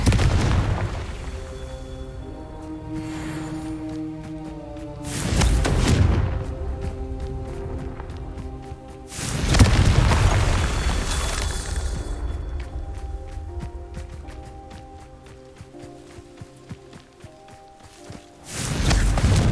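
In the video game Hogwarts Legacy, the Confringo fire spell sets off a few deep booming explosions, spaced seconds apart, over steady background game music.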